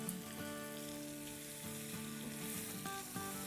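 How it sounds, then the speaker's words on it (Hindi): Cauliflower and mutton sautéing in a pan on medium-high heat hiss with a steady close sizzle, accompanied by faint tonal hums and intermittent light scraping or stirring touches, with no talking. "इसे अब हम सौटे करेंगे मीडियम हाई पे"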